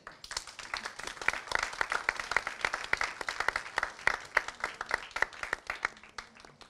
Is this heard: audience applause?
yes